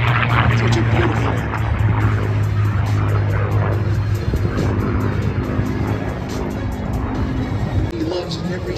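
A P-51 Mustang with a Merlin engine passes at an airshow, its steady, loud engine drone holding throughout while a commentator talks over it.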